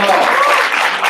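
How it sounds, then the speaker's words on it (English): Audience applause fills an auditorium at a student project showcase, a dense, steady wash of clapping from a crowd, loud and continuous throughout. "Keep up the clapping"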